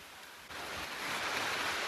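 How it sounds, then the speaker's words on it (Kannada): Strong wind gusts through swaying trees outdoors, a steady rushing whoosh that swells after a brief dip and holds loud and close, with no talking. "ಜೋರ್ ಗಾಳಿ ಬೀಸ್ತಾ ಇದೆ. ನೋಡಿ ಮರ ಹೆಂಗ್ ತೇಲಾಡ್ತಾ ಇದೆ."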